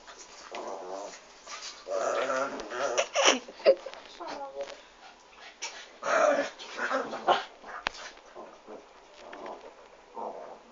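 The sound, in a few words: dog whimpering and growling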